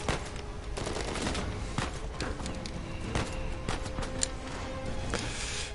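Gunfire in the Uncharted 4 video game, a run of sharp shots and bursts over a busy, noisy action soundtrack.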